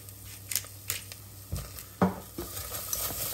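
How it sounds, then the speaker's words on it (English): A spoon stirs garlic granules, mixed herbs and black pepper into tomato soup in a pot, making a few soft scraping and clinking strokes with a light bubbling sizzle, close by and without speech. "And give that a good stir"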